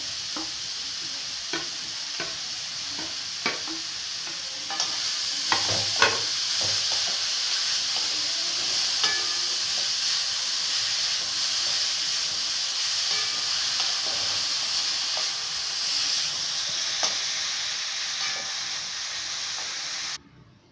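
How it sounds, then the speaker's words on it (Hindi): Grated carrots for gajar halwa fry in a hot pan, giving a steady close sizzle and hiss throughout, broken by scraping stirs and occasional clanks, with no talking. "अब एकरा ई बढ़िया से भूज लिया।"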